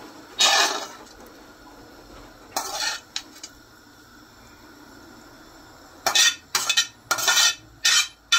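Fried cauliflower, potato, peas and corn are tipped into a pan for masala khichdi and stirred, giving bursts of loud metallic scraping and clatter separated by quieter gaps.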